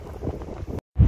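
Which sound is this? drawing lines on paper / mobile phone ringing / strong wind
strong wind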